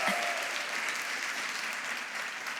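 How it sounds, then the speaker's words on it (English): An audience gives a brief, full round of applause, steady, close and evenly sustained clapping from a seated crowd at a business event. "Huge round of applause."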